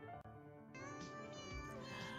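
A cat meows faintly against a steady background of music-like tones, a drawn-out call rising over the hum near the end, with no talking.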